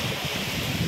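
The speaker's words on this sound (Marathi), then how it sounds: "तर बघा कशा लाटा उचलत आहेत." High-tide sea waves surging against the Konkan coast: a steady, broadband rush of surf with wind buffeting the microphone, loud and continuous with no breaks, and no voices.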